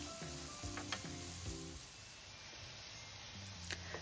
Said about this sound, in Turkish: Soğanları güzelce soteledim ve artık güzelce yumuşadı.